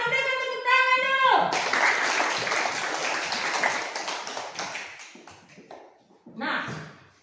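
A classroom of students clapping for a classmate's answer, a dense burst of hand claps after a brief tone, thinning out over several seconds with children's voices faintly underneath.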